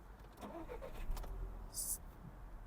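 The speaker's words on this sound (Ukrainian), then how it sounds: "Заводиться автомобіль дуже легко, просто дуже класно, чистенько, гарно працює." A Volkswagen Golf VI with a 1.4 TSI engine starts: a short crank and catch, then a quiet, smooth idle heard faintly and close by.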